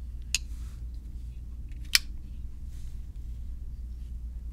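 Zero Tolerance 0200 folding knife with a stonewashed finish snapping open on its flipper, two crisp metallic clicks about a second and a half apart, close over a faint low hum.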